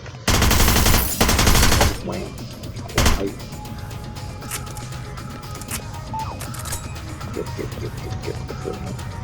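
Rapid bursts of automatic gunfire from a UMP submachine gun in the video game Hitman Blood Money, loud and dense for about two seconds, then a short second burst followed by lower game ambience.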